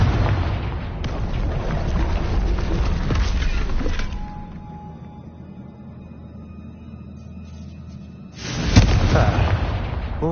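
A Confringo blasting spell explodes in Hogwarts Legacy, a loud booming burst with crackling debris. It fades into a quieter rumble, then a second heavy blast hits near the end.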